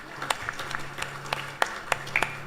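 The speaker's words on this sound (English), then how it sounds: "Give them a round of applause" Sparse applause from a small temple congregation at a Krishna Mandir Mother's Day service for the Youth League team, a handful of distinct, separate claps over a low steady hum.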